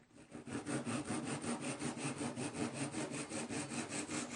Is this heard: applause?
no